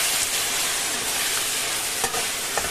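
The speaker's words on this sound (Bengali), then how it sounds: "একবারে অ্যাড করে দিব খাসির মাংসটা, ম্যারিনেট করা রাখা খাসির মাংসটা" Marinated goat meat hits hot fried onions in a pan with a steady, close sizzle, broken by a few light stirring scrapes and clinks near the end.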